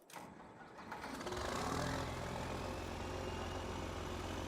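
A John Deere farm tractor engine cranks and catches, then settles into a steady, fairly loud idle close by, with no talking.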